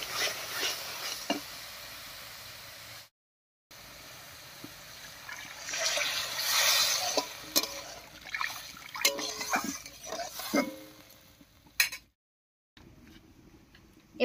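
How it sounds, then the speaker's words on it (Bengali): Water poured into a pot of curry whose spices have been fried down until the oil separates, for the gravy; a steady, moderately loud pouring splash and bubbling with brief drips, alone without talk. "এবার এর মধ্যে ঝোলের জন্য জল দেব।"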